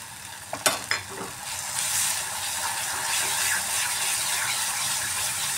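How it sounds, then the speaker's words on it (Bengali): Spice paste with tomato ketchup is stir-fried in a pan for an egg kofta curry. A spoon clatters and scrapes at first, then a continuous close sizzle follows. "টমেটো কেচাপ দিয়ে আর একটু মশলাটাকে কষিয়ে নিচ্ছি।"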